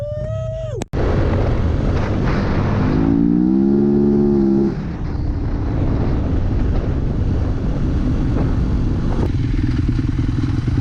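Dirt bike motorcycle riding a trail at Shotgun Creek, its engine roaring loud and close with revving that rises and falls, heavy wind buffeting the microphone throughout and a brief gear-shift whine early on.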